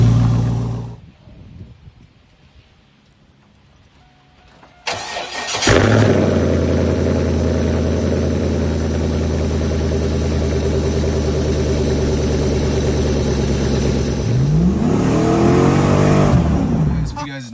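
A 2002 Chevrolet Camaro Z28 engine cranks and catches after a quiet pause, then settles into a loud, rumbling idle with a steady throb, swelling into a rev near the end.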